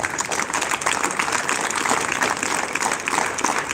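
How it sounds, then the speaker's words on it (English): A seated or standing audience claps for their parents, a dense, steady wash of many hands applauding together throughout, fairly loud and sustained with no pauses. "Stand and give a clap to your parents."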